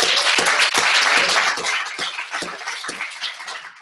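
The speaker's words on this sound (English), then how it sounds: "I just give him a round of applause" Audience applause welcoming guest speaker Alan Henricks at a speaker series session, a dense steady clapping from a crowd that holds loud for several seconds, then thins into scattered claps as it tapers off.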